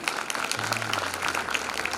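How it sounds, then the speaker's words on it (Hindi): A theatre audience gathered for a stage play about Rani Lakshmibai claps in a steady, moderately loud crowd applause, with a low hum lying beneath the clapping. "जोरदार तालियां।"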